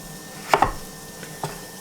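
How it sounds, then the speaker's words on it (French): A knife chopping through butternut squash on a cutting board, two sharp close thunks in quick succession followed by a lighter tap and a final cut, with no talking. "Je coupe comme ça en fait, faisant le contour pour éviter justement de me couper."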